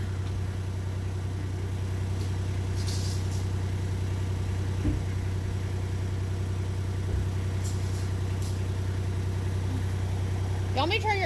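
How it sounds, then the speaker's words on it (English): A tractor engine idles at a farm site where roof trusses are being built, giving a steady, low, continuous rumble close by for the whole stretch, with no change in pace. "You want me to turn your tractor off?"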